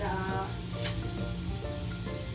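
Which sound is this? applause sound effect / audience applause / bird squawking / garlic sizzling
garlic sizzling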